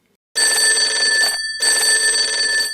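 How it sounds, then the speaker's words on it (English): An old telephone bell rings loudly in two long bursts separated by a brief pause, with nothing else audible. "Yeah, it's a telephone. An old one, right?"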